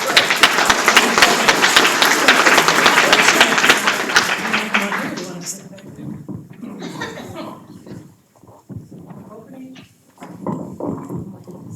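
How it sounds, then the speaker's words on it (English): Audience applause for the candidates at a Yamhill County Commission candidates forum in April 2018: dense, steady clapping fills the room for about five seconds, then fades out as a voice takes over. "let's give them all a good round of applause"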